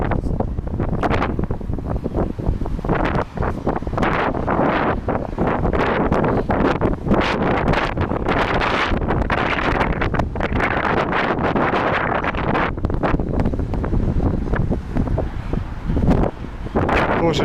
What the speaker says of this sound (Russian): Тоже сильный ветер сейчас здесь.